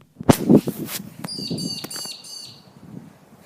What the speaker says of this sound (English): There's a pigeon out there.